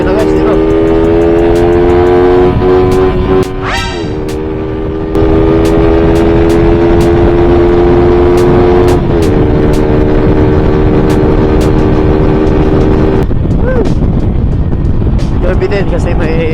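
Stock-engine Suzuki Raider 150 motorcycle running flat out in sixth gear at about 8,000 RPM and roughly 100 km/h, a steady loud engine drone with wind rush, one brief dip in pitch midway, no talk.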